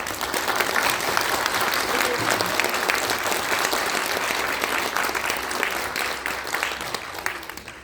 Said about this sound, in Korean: 여러분들 동의하시면 큰 박수 부탁드리겠습니다